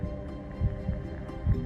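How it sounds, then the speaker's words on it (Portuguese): Two human hearts beating, a steady low thumping pulse of soft double beats repeating close and clear over a faint hum, with no voices. "Os batimentos cardíacos sobem e baixam em conjunto"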